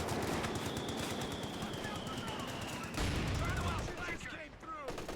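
Machine gun suppression fire in a Company of Heroes battle rattles out in rapid, loud, continuous bursts, mixed with other gunfire and explosions that fill the whole stretch.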